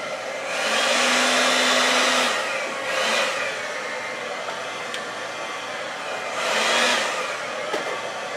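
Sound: hair dryer blowing poured paint, Dutch pour acrylic art

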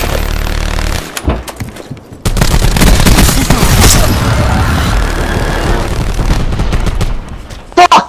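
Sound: sentry gun firing in a Call of Duty video game

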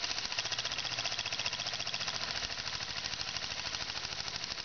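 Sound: small homemade wobbler engine running

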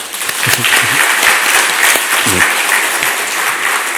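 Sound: church congregation applauding

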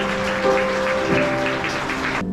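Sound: applause at a wedding as the mothers enter

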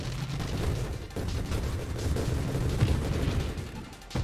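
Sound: grenade explosions in video game Nova Drift

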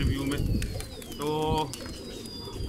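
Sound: pigeons cooing

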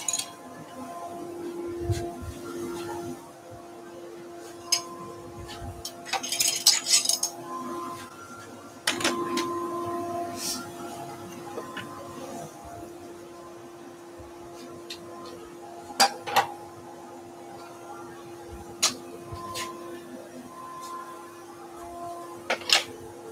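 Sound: disc sander running

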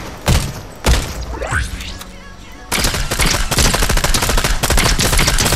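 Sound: gunfire in the video game Fortnite

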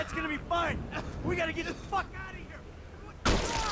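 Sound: gunfire in video game GTA V

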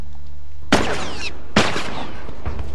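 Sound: gunfire in a video game

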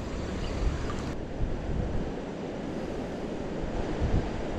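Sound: roadside creek water flowing

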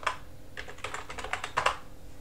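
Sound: typing a command on a computer keyboard

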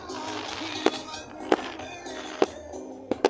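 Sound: fireworks at the Autódromo Gálvez

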